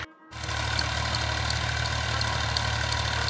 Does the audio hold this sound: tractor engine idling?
yes